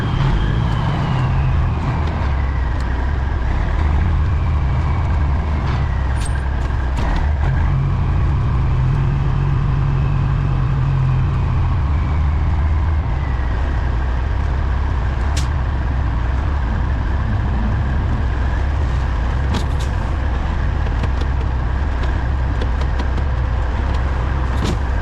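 A truck hauling a long, wide load backs slowly across an intersection near McDermitt, Nevada, its diesel engine rumbling steadily and loudly for the whole stretch, with a hiss of air brakes and a rising whine partway through.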